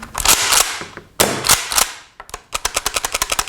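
A Tokyo Marui KSG airsoft shotgun fired and pumped repeatedly: sharp plasticky shots each followed by a clacking pump stroke, first in slower pairs, then a fast, even run of shot-and-pump clicks, close and loud with no talking.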